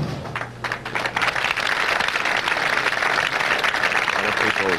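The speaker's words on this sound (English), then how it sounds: "A lot of people are cheering for him." At a 1992 national bowling championship, a crowd cheers and applauds for a bowler, a dense, steady roar of clapping and voices filling the hall at close range throughout.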